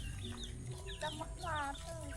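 Chickens cluck in a rural village near the Laos–Vietnam border, a few short, faint calls scattered over a low background rumble.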